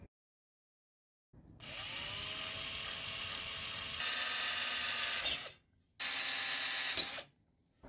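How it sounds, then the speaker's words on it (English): A power drill bores holes through copper pipe for the feed points of a homemade VHF or CB J-pole antenna, running steadily for about four seconds, rising briefly, pausing, then spinning again, loud and close with no talk. "I'm going to make the holes for the feeding points."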